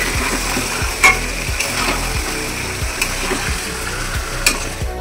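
Biryani chicken with dried chilli powder sautés loudly in hot oil, a constant close sizzle with regular scraping strokes of a spatula roughly every half second and a few sharper clacks against the pan.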